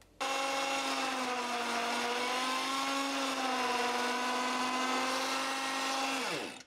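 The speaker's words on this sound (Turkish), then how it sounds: "Blender'dan geçirdim." A blender whirs steadily, blending diet ice cream made with milk, a loud sustained motor drone with a stable pitch that winds down at the end.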